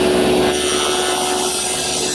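A table saw cuts a wooden tenon shoulder, the stock guided by a miter gauge against a stop, giving a loud, steady high whine with a grinding edge throughout the brief pass, and no voices.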